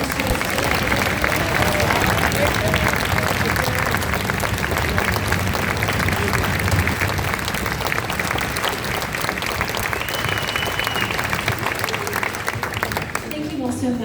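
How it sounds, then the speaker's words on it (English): An audience in a school gym applauds after an orchestra performance, dense sustained clapping from a large crowd that holds steady for over ten seconds before thinning out, with voices mixed in the background. "one more big round of applause for all three of our orchestras."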